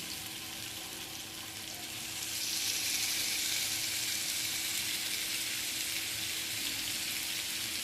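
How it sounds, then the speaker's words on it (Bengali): Meat pieces for kebab frying in a pan, a steady close hiss and crackle of oil that swells louder after the first couple of seconds and keeps sizzling evenly, with no talking. "একটু ফ্রাই করে নেব।"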